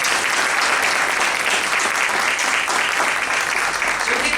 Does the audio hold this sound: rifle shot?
no